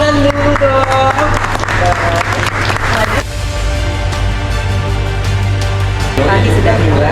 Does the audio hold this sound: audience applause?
yes